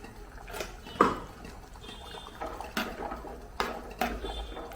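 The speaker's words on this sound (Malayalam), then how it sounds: "ഈ ജാറും കൂടെ കഴുകി കുറച്ച് വെള്ളം ഒഴിച്ചു കൊടുക്കാം" Water poured and swished into a pot of banana curry in short bursts, with intermittent clinks and splashes nearby, fairly quiet, no voices.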